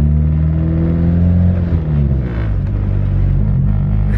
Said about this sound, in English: I just gotta hear that good old Civic turbo sound, baby.